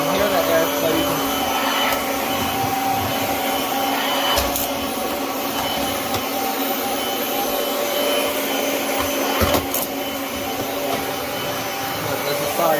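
A Kirby Avalir 2 vacuum cleaner runs continuously with a loud rushing airflow and a steady whining tone, with a couple of brief knocks along the way.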